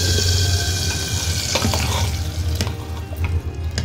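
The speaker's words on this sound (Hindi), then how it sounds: "और ये मैंने गैस को किया बंद और ये मेरा लग गया तड़का" Spices temper in hot oil for dal khichdi, sizzling and crackling with a steady frying hiss, scattered pops and a low hum beneath.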